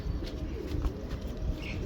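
A domestic pigeon, a migratory-breed female, coos steadily and up close, a continuous low throaty murmur with other bird sounds faintly behind.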